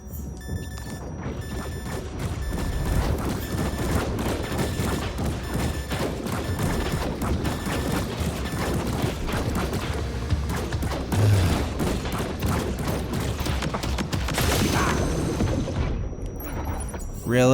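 Rapid gunfire from the video game Death Stranding 2, a dense, continuous fusillade with crashing impacts running throughout at a loud level.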